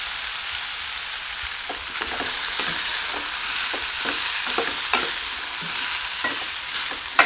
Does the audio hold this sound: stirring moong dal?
yes